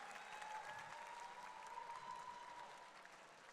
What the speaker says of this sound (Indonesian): tepuk tangan dong yang meriah buat kakaknya udah berani maju ke depan.